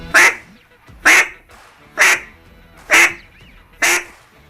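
A duck call imitates a hen mallard's quack, giving five evenly spaced, loud, close quacks about one second apart, each with a slightly rising, questioning inflection, with nothing else heard around them.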